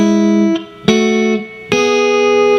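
Electric guitar chords ring out one after another up the neck, three sustained, bright strums with distorted tone, each struck cleanly and left to ring before the next.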